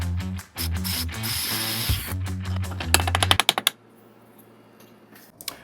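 A drill running a 1.5 inch Forstner bit about half an inch down into a wood piece clamped in a vise, a loud whirring bore for about three seconds, then a rapid burst of clicks and a spin-down into near quiet.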